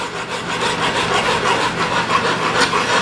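A hand tool scrapes and rasps steadily along the wooden neck of an acoustic guitar being carved, working down a high spot with a continuous gritty rubbing that carries on without a break.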